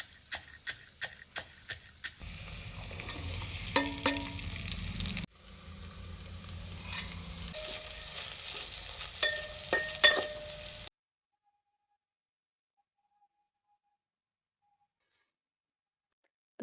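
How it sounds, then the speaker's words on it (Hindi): Potatoes dropped into hot oil for sabudana khichdi in a home kitchen, a steady sizzle with clinks and scraping of a utensil in the pan, close by, then cutting off to near silence. "तेल गरम हो चुका है, इसमें डालूंगी मैं आलू।"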